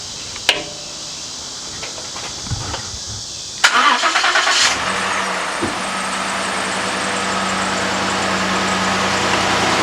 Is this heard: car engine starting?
yes